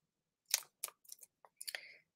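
Scissors snip designer paper up close for card making, giving a quick run of five or six short, crisp cuts in a quiet room.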